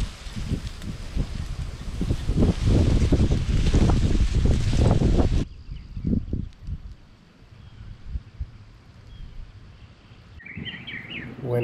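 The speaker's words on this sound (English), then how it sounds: "It's nice and windy." Strong gusts buffet the microphone near the water on a sailing outing, loud rumbling wind noise for the first few seconds that drops to quieter breezy air with faint birdsong afterward.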